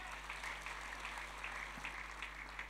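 A church congregation at a Sunday worship service claps together, steady, dense applause heard from a distance at moderate volume, continuous throughout.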